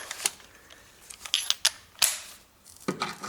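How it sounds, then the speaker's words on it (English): A long breaker bar on a 10mm socket works loose a small bolt on a vehicle during a front ABS sensor job, giving a few sharp metallic clicks and clanks in irregular bursts, close and fairly faint. "And now next I open this 10mm bolt."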